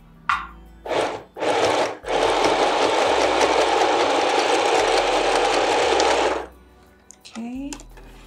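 A sewing machine runs in short bursts and then one long steady stretch as it stitches gathers into fabric with elastic pulled taut, a close mechanical whir with brief pauses; a voice speaks near the end.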